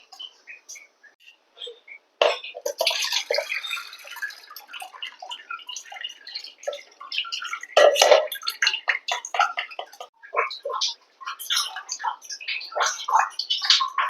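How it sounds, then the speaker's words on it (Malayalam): Gooseberry lemon water, Kerala style, strained through a sieve: a sparse run of drips, trickles and small utensil clicks and taps, close by and fairly quiet, with no talking. "നമുക്കൊന്ന് അരിച്ചെടുക്കാം."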